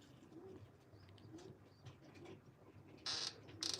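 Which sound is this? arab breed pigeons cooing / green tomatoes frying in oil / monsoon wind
arab breed pigeons cooing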